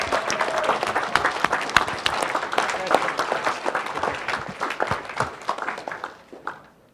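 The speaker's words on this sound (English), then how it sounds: "So big round of applause for everybody entering in that competition." An audience claps at a CyberSEED 2016 awards presentation for competition entrants, a dense, steady round of applause that gradually fades out toward the end.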